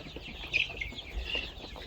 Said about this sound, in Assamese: আৰু গোটেই ৰুমটোতে মেলি দিয়া হৈছে মুৰ্গীখিনি